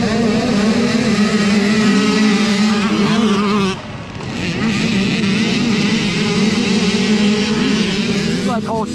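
Mini dirt bikes race in round 5 of an NECXC cross-country event, their engines whining and buzzing loudly and close by, dropping briefly before revving back up.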